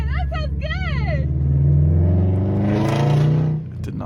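A car exhaust revs loudly and close, a deep droning engine note that swells and rises, then drops away near the end, with brief vocal sounds at the start.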